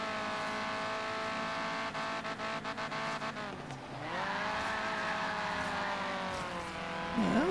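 An Alumicraft racer's engine revving in the racing game Forza Horizon 3, a loud sustained engine drone with rapid gear-shift stutters, a dip and swelling rise in pitch, and faint tire squeal.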